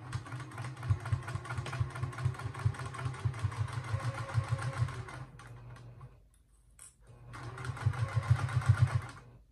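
A sewing machine backstitches fabric scraps into a reusable sponge, running in quick, rhythmic close-up bursts that stop for about a second and then start again.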